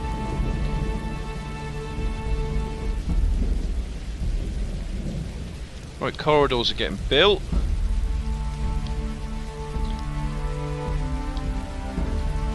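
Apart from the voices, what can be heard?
rain and thunder in the video game Dwarf Fortress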